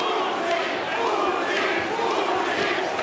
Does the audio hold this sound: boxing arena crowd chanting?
yes